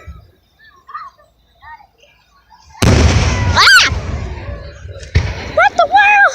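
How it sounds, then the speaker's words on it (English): Fireworks in a night display go off in two loud, close booms, each trailing a crackling rumble, while people exclaim in excitement between and after the bursts. "I waited so long to see these fireworks."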